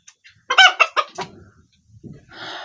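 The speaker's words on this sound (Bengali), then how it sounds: "আমাদের নিচে আরো অনেকগুলো মুরগি রয়েছে।" Chickens on a poultry farm give a burst of loud, close clucks and squawks in quick succession, then quieter scattered calls and a rising chatter from the flock. No voices.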